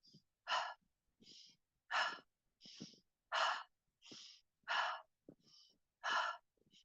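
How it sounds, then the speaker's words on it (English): Quick, forceful breaths during chair yoga, a steady alternating rhythm of sharp inhales and exhales, about ten bursts in seven seconds, close and fairly quiet with a few soft spoken words between. "Give it a fast breath. Inhale out. Inhale, exhale."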